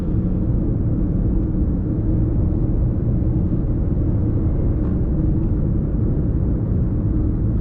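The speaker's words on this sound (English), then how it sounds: "A little bit of road noise, but not too much." Road noise inside a Lexus RX350L cruising a Southern California freeway, a steady low rumbling drone of tires and cabin hum with no breaks, and no talk over it.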